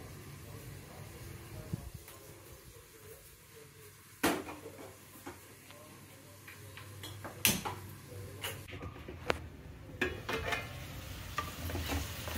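Food stirred in a pan on an Indian home stove, quiet sizzling under occasional sharp clicks and scrapes of a utensil against the pan, with sparse talk in between.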